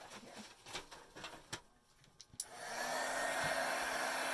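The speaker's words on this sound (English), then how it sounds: "Let's see if we can use our heat gun on this." A heat gun switches on and blows steadily to dry a craft project, a loud close broadband whoosh that follows a few faint clicks and handling taps.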